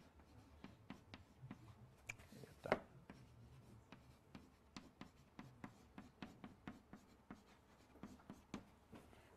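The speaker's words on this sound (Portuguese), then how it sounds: "vamos escrever, não custa nada" Writing by hand, labeling a chakra diagram: soft, rhythmic pen strokes and scratches, fairly close and quiet, repeating steadily with small pauses between words, with no talking.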